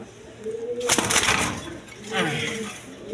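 Pigeons cooing among a collection of birds for sale, soft low coos in the background with a burst of wing flutter and rustling near the start, plus loud clattering noise.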